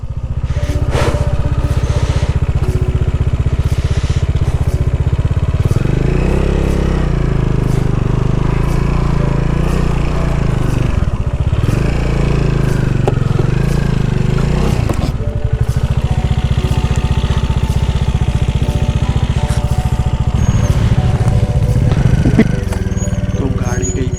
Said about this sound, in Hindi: अब हमें यहाँ चढ़ानी है बाइक।